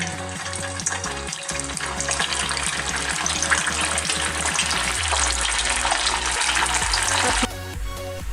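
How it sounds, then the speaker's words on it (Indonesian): Pempek fish cakes, lenjer and kapal selam kinds, fry in oil over medium heat with a steady dense sizzle and occasional stirring clatter, close and continuous, briefly dropping in level near the end. "Kita gorengnya dengan api sedang sebentar aja, hanya supaya bagian luarnya kering."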